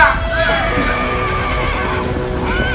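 A horse whinnies in a staged Indonesian stage drama about the Hijrah as the horse falls with its rider, the neigh rising and falling over a continuous backdrop of music and voices.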